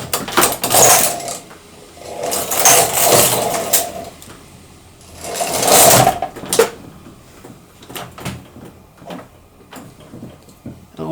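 A knitting machine carriage slides across the needle bed in a few loud, rasping sweeps with clicks and clatter between passes, close up.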